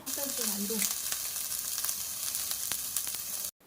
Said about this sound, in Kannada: ಕೊತ್ತಂಬರಿ ಸೊಪ್ಪನ್ನ ಹಾಕ್ಕೊಂಡು ಎಲ್ಲವನ್ನು ಕೂಡ ಚೆನ್ನಾಗಿ ಫ್ರೈ ಮಾಡ್ಕೊಳ್ತಾ ಇದ್ದೀನಿ